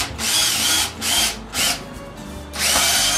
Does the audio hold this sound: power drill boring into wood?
yes